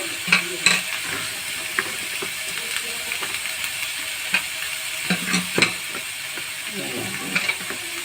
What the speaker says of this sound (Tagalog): Halo-haloin nyo lang siya para ma-fry.